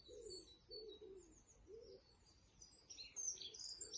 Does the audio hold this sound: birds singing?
yes